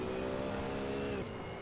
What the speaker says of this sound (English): Pretty sure it's the V8 from the E92 M3.